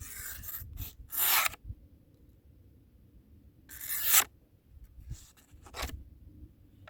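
A knife bought at a gas station draws across a sheet of paper in a few bursts of scraping and rasping, close and crisp, separated by quiet pauses.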